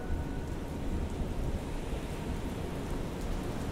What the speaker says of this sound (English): there were days of relentless rain